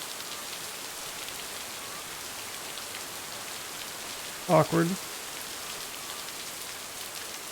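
Steady rain hisses evenly throughout in the video game Lake, and a voice briefly speaks a single word partway through.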